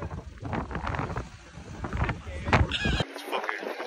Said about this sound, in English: windy as hell out here in Oahu